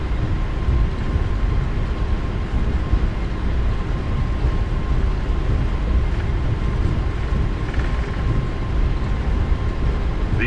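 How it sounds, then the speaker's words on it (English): A Boeing 777-300ER on a long takeoff roll in Microsoft Flight Simulator, a steady, loud engine roar with rumbling low end that holds constant throughout, no voices. "Super long takeoff roll."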